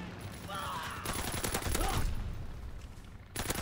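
Rapid gunfire bursts from Call of Duty WW2 sound in quick clusters of shots, fairly quiet and mixed with faint game effects.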